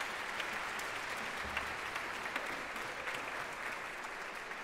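A concert audience at a Czech student philharmonic performance of Dvořák's New World Symphony applauds in a sustained, even wash of many hands, distant and unbroken.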